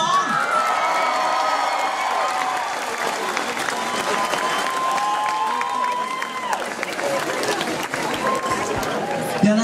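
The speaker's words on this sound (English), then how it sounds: "So a big round of applause for them as well" A concert crowd at a tribute show applauds and cheers loudly, with whoops and shouts over continuous clapping that carries on throughout.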